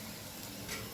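Onions frying in oil in a kadhai over high heat while cooking Mughlai chicken, a steady close sizzle and crackle throughout with a slight swell near the end, no talking.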